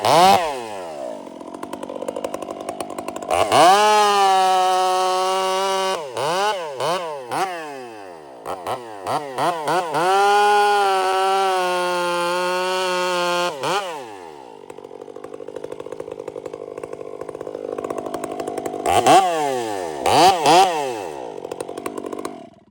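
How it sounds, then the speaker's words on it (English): A chainsaw revs up and down in repeated bursts, its engine whining loud and close, dropping to a rough idle between throttle pulls. "It is a very interesting saw."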